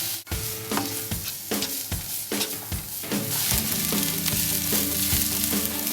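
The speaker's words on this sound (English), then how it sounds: "fry them on a medium-high heat for about 4 minutes until they start to brown" Chopped onions frying in about a tablespoon of oil in a pan over medium-high heat, a loud close sizzle with rhythmic scraping stirs of a utensil, crackling steadily and growing slightly busier toward the end.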